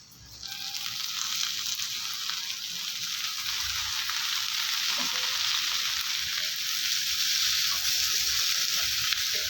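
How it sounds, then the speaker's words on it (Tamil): Steady, loud sizzling of eggplant and onion frying in a pan for chutney, a continuous bright hiss with occasional stirring sounds, no voices. "இப்போ இந்த வெங்காயம் வதங்கிடுச்சு இதோட நம்ம நறுக்கி வச்ச கத்திரிக்காய் சேர்த்துக்கலாம்"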